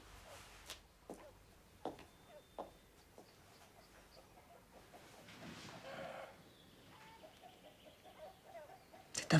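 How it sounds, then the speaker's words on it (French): Hens cluck softly and intermittently while scratching in a farmyard under a grey sky, faint and somewhat distant, with a few sharper calls standing out. "Regarde, les poules grattent la cour."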